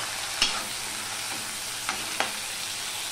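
Onion, garlic and tomato fry in a pan while cooking belemach fish, a continuous loud sizzle broken by a few brief scraping stirs of a spatula.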